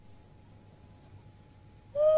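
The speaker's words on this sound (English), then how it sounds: "Anybody knows an owl hoot, and that was an owl hoot." An owl hoots once near the end, a clear sustained call rising out of a quiet nighttime campsite background after a long stretch of near silence.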